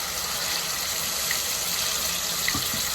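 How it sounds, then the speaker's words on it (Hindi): Water poured into a pan of softened tomatoes and onions gives a steady wet hiss and gurgle, moderate and continuous, with a couple of faint clinks near the end. "अच्छा, 1 से 2 चमचे में पानी भी डालूंगी।"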